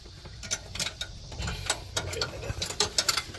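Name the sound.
wrench loosening engine fan bolts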